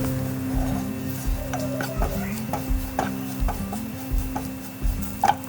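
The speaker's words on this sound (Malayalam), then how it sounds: "അതെല്ലാം കൂടി ഇതിലേക്ക് ഇട്ടിട്ട് നല്ലോണം ഒന്നും കൂടെ ഇളക്കി കൊടുക്കുക." Spices and masala being stirred into a pan for a Kerala-style roasted-coconut chicken curry, with repeated scraping and clinking strokes over a low steady hum, close and moderately loud.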